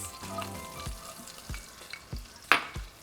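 Minced garlic and chopped green onions fry in melted butter, a soft steady sizzle with rhythmic stirring scrapes and one sharp clank near the end.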